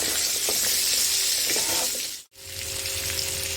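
Chopped raw plantain sizzles steadily in hot oil in a pan, with stirring scrapes throughout and a brief cut-out partway.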